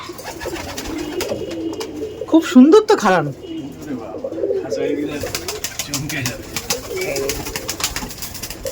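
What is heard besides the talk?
teddy pigeons cooing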